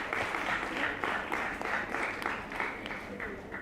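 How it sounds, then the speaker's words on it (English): An audience claps steadily through the whole stretch after someone speaks in a discussion setting. The applause is moderately loud, with a voice faintly audible underneath. "That deserves a round of applause"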